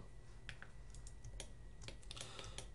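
Computer keyboard keys pressed for shortcuts while working in 3D software, a few quiet, scattered clicks and taps over a low steady background hum, with no talking.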